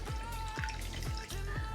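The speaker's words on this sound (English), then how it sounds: "Then I will take my grapefruit soda from underneath the bar. There you go. And just pour it over." Grapefruit soda poured from a bottle over ice into a mocktail glass at a bar, a steady trickling pour with repeated gurgling glugs from the bottle, close and continuous.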